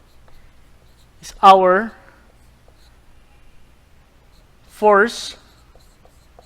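Writing on a board during an earthquake engineering lecture gives soft, faint scratching strokes, with a voice speaking two short phrases over them.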